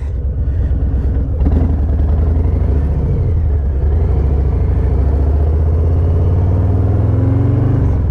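Harley-Davidson Low Rider ST motorcycle riding on the road, a steady loud low engine rumble with wind noise throughout and slight changes in pitch as it accelerates.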